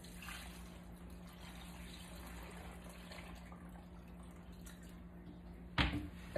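Water pours into a Vitamix blender in a home kitchen as a steady, soft stream over quiet room hum, ending in a brief louder splash near the end.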